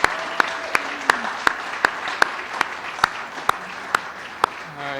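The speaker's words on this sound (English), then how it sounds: "Could you please turn and give a round of applause to everybody here who supported you in the last 3 or 4 years." A graduation audience applauds the people who supported the graduates, a steady wash of many hands clapping with sharp individual claps standing out at regular intervals, fairly loud and close throughout.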